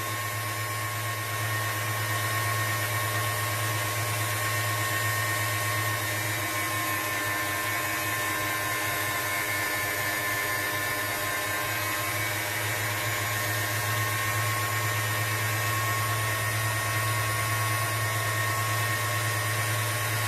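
A KitchenAid stand mixer drives an electric pasta cutting attachment with a steady, loud, unbroken motor hum and whine that holds unchanged throughout.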